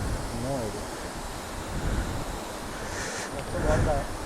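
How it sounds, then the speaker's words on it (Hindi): Garambi Waterfall off Murud Road pours with a steady, broad rushing roar that fills the whole clip. Wind buffets the microphone, and people talk faintly over the water. "हाँ यही है गरम्बी वाटरफॉल।"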